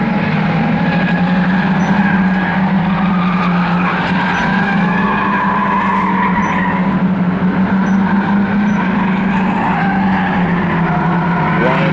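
Saloon stock cars racing at Kings Lynn in the English Championship, engines droning continuously and loud with tyres skidding and squealing throughout, a sustained roar of several cars close by.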